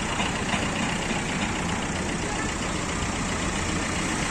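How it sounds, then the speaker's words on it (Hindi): A used car with 73,000 km on it idles smoothly nearby, a steady, even hum with no revving or rattling. "ये देखिए इसका इंजन, बिल्कुल कोई ज़्यादा आवाज़ नहीं है, बिल्कुल स्मूथली इंजन है।"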